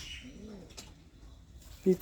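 Giribaz high-flyer pigeons, including a white red-faced male, give soft, faint coos nearby, with a short, sharper sound near the end under low background murmur.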